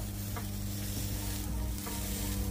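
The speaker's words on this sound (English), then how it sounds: "So we'll place these down now and listen to the sear." Steak kabobs with ripened plantains sear on a fire grill, a dense, loud, continuous hiss and crackle heard up close and unbroken for the whole moment, with no talk over it.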